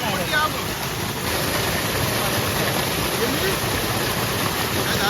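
A steady, loud roar of rushing water fills the whole stretch without a break, from a nearby waterfall on a stream during heavy rain.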